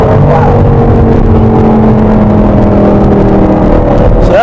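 An Audi R8 engine pulls hard on cold roads, a loud, steady drone with a rising whine that sustains throughout from inside the car, with no talking.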